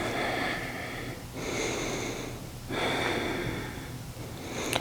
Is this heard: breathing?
yes